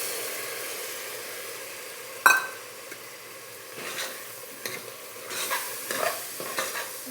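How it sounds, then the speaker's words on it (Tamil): Carrots, beans and peas being stirred in a frying pan, a soft steady sizzle broken by a sharp spoon scrape and several scraping, rustling stirs toward the end. "நல்லா கிண்டி வேக வைக்கணும்"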